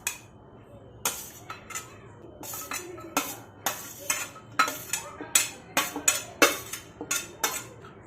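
Sliced raw mango for a spicy chaat is moved into a bowl, giving a string of sharp utensil clinks and taps, irregular at first and then quicker and more regular, over a quiet background.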